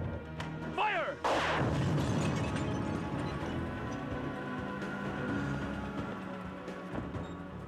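Weapon fire blowing up a decoy in the Phantom 2040 video game: a sharp descending laser-like zap, then a loud crashing blast that leaves a long rumbling, crackling tail fading slowly.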